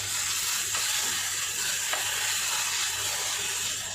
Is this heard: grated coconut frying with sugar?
yes